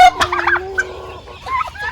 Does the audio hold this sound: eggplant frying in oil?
no